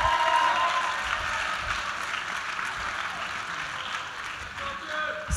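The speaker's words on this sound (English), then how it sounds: "Okay, can I get a round of applause?" An audience claps at an education talk, a moderate, fairly even ripple of applause that continues at steady volume, with faint voices mixed in.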